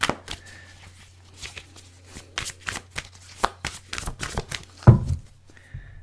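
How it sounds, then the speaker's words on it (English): Tarot cards are shuffled close up in rapid riffling bursts, papery flicks and slaps coming in quick irregular runs. "That just makes it hard to shuffle."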